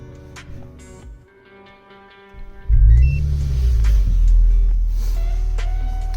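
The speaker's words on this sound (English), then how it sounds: "hear the melody, car will start." A Maserati Levante's engine cranks and fires up, settling into a loud, steady low idle rumble close by after a quieter stretch with a short electronic tone beforehand.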